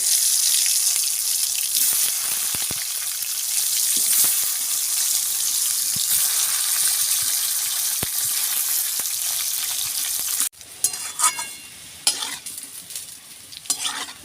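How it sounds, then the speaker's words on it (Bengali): Potatoes frying in a pan of oil tempered with cumin and bay leaf, a loud steady close sizzle for about ten seconds, then quieter stirring and clinks. "জিরে, ফোড়নটা হয়ে গেছে, এবার আমি আলুগুলো দিয়ে দেবো।"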